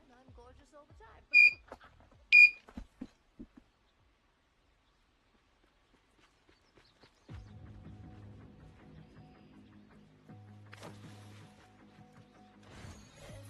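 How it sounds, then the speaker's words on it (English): Two sharp electronic beeps, like an alarm clock, sound close and loud in quick succession within a video game, followed later by low mechanical hum and clatter. "Sorry for the beeping."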